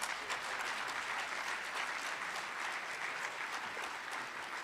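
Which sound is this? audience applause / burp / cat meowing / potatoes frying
audience applause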